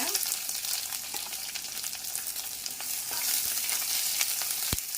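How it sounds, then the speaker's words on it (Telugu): Thinly sliced onion fries in hot oil with mustard seeds for a birakaya chutney, giving a loud, continuous close sizzle with scattered pops and crackles throughout. "చూడండి ఫ్రెండ్స్, ఆనియన్ బాగా ఫ్రై అయినాయి"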